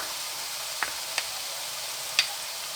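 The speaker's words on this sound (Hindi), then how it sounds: "और मज़ीद इसको 2-3 मिनट के लिए हम फ्राई करेंगे।" Ginger garlic paste fries in a pan with a steady, even sizzle, broken by a few faint ticks and pops; no one speaks.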